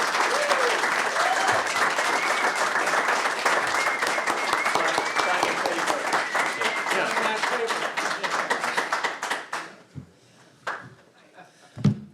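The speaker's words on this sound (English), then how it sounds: "I appreciate the applause and the nomination" Applause for Jonathan Riddle, newly and unanimously nominated as mayoral candidate at a party nominating convention, fills the room steadily for about nine seconds before thinning into a few scattered claps near the end.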